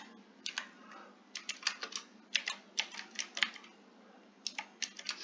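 Computer keyboard keys clatter faintly in bursts of rapid taps, pausing briefly between groups of words while text is entered for a CV; the sound is quiet and close, with no talking.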